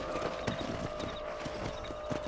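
Horse hooves clip-clop in Red Dead Redemption, a steady trotting rhythm of soft knocks over a constant game background, with no speech.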